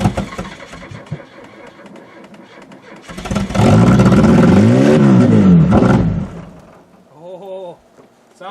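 An old Buick with an iron duke engine is cold started, first a low rough idle, then a surging rev that roars loudly for a few seconds before dropping away. A voice speaks briefly at the end.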